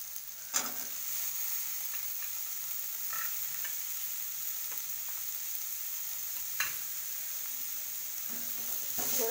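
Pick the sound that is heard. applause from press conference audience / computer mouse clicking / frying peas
frying peas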